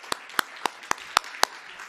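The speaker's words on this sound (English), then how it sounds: "Big round of applause." A handful of sharp, evenly spaced hand claps from an audience at an India Sweden Innovation Day event, about six distinct claps in two seconds, close and fairly loud with no talking over them.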